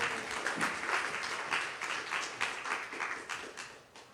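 A church youth group's Sunday worship congregation applauds, with dense, steady clapping that holds for about four seconds and eases off slightly at the end.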